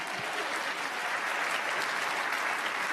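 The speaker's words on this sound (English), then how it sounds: "Applause, please." Dense audience applause at a TEDx event, a steady wash of clapping with no break across the short stretch.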